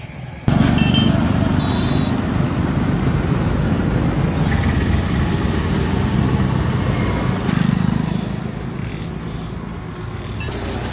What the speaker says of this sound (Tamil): பஸ் வருது, நிப்பாட்டலாமா?